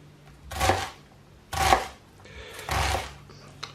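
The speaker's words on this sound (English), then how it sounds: "So I make two horizontal slashes and slice like that" Three distinct chopping strokes as a knife slices through onion on a chopping board, evenly spaced about a second apart, each a crisp thud with a short rasp, close and clear with a fainter tap at the end.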